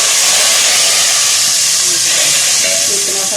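Curry leaves, added for a Kadhi Pakora tempering, crackle and sizzle in hot oil with cumin. The frying hiss is loud, steady and broadband, with sharper pops and spits rising near the end.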